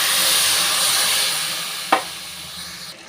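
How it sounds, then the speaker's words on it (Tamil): A steady broadband hiss of frying fills the clip, with one sharp crackling burst partway through as water hits hot oil in a cooking lentil curry. "இப்போ கொஞ்சமாக தண்ணி சேர்த்துக்கிறேன்"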